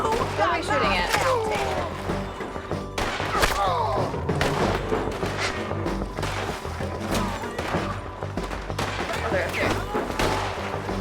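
Gunfire crackles through a Red Dead Redemption 2 firefight, with scattered shots and thuds mixed into a busy, loud game soundscape while people talk over it.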